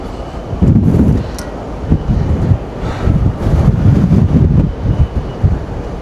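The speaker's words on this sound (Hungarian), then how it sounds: "Egy kicsit fúj a szél, úgy jó, rendesen fúj a szél." Strong wind buffets the microphone in loud, uneven gusts on the open deck of a ferry crossing from Finland toward Estonia, with a low rumbling roar underneath and no speech.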